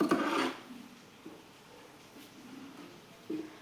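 Scissors cut through blouse fabric for a size 38 back boat neck blouse, giving a loud crisp snip at the start followed by softer, scattered rasping cuts and rustles close by, with no talking.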